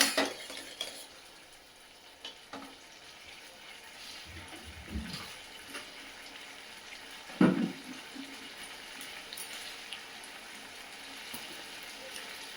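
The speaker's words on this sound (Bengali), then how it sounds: "এইবার কিন্তু এটা আমি অনেকক্ষণ ধরে নাড়বো, জানো তো, একদম শুকনো করে নেড়ে নেব।" Semolina (suji) being stirred in a pan until dry, with soft scraping and light utensil scuffs against the metal, quiet and steady throughout, and one sharper knock partway through.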